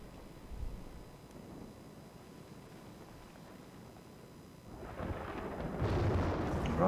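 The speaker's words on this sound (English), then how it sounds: "Oh, that thunder sounds a bit ominous here." Thunder in the video game Battlefield rumbles low and distant at first, then swells into a louder, broader roll near the end, with no talk over it.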